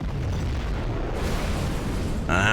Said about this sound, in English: Let's see where the Nuke missile is going to fire.